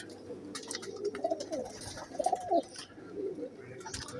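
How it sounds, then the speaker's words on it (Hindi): Flying pigeons coo softly at close range, a few low, rolling calls clustered together over faint background noise. "उड़ने वाले और नाम निकालने वाले कबूतर हैं ये"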